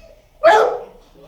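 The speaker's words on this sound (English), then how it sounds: "The dog that's barking right now just saw its owner." One sharp dog bark sounds nearby, echoing briefly in an enclosed animal shelter room with faint background noise around it.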